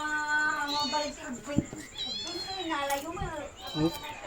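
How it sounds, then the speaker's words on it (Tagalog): A cat meows several times up close, its drawn-out, wavering cries rising and falling, with a voice and household sounds mixed in. "may pusa"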